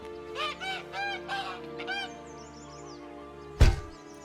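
Loud, nasal goose honks from The Witcher 3 video game, a rapid series of calls followed by a pause and then a sharp thump, heard close up with no talking.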